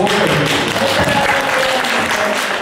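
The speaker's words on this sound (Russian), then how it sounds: "Аплодисменты" Audience applause in a Russian-language hall after a speaker finishes her story; a dense, continuous wash of clapping from a crowd, fairly loud and even throughout the short stretch.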